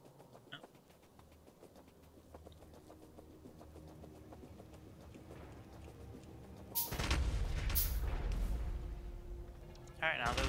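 Artillery train cannon fire in the factory-building game Factorio: a burst of heavy booms and crackling impacts hits suddenly partway through over a low mechanical game hum, with a second blast near the end.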